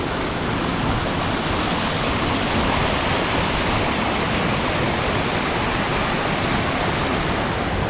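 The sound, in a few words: waterfall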